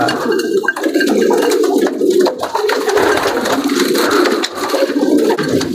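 Pigeons in a loft give continuous cooing within a dense, busy wash of other bird calls and flutter, loud and close throughout with no pause.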